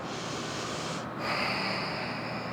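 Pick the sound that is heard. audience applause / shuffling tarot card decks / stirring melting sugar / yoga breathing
yoga breathing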